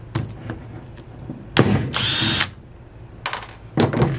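A power drill backs two screws out of a transmission valve body plate on a 727 or 904 automatic, with short whirring bursts, one longer high-pitched run, and clicks and clatter of the metal parts between them, close by.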